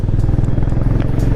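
A Honda Hness CB350 motorcycle cruises steadily in third gear at about 60 to 70 km/h, its engine giving a loud, continuous low thumping drone with light mechanical clatter throughout.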